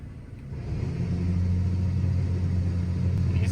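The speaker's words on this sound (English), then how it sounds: "The winch is working good so far." A truck-mounted winch on a Toyota Tacoma with a new bumper hauls another truck up slowly, a steady low mechanical drone and rumble held at constant loudness, no voices.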